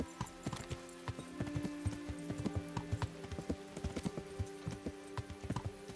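A horse's hooves clip-clop at a steady ridden gait in the medieval game Kingdom Come: Deliverance, close, even and unbroken for the whole stretch over a low ambient bed.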